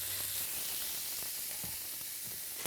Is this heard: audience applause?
no